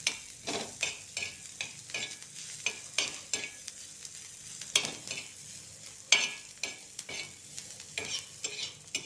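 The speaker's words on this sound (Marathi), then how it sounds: "याला थोडासा असं लाल करून घ्यायचं आहे, जास्त कांदा नाही भाजायचा आहे." Chopped onion fries in a pan for shev bhaji while a spoon stirs it in repeated scraping strokes over a soft, steady sizzle, heard up close with no talking.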